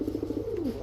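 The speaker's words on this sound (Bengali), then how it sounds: "এখন দেখাবো নারায়ণগঞ্জের সবচেয়ে বড় পালকের ঘরের কবুতর, কালদম কবুতর" Kaldom pigeons coo in a large pigeon loft in Narayanganj, a close, steady run of soft throaty pulses rolling into a longer gliding coo, alone without talk.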